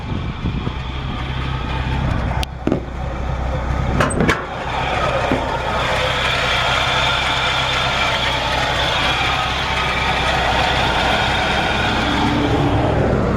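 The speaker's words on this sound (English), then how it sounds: "it's got a nice sounding exhaust" A 1957 Chevrolet V8 engine idles with a low, steady rumble, a few sharp clicks early on, then a constant loud drone.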